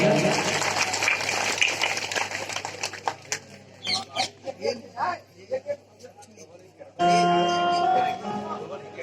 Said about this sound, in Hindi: तो श्यामिल चाचा जी के लिए एक बार स्पेशल जोरदार तालियां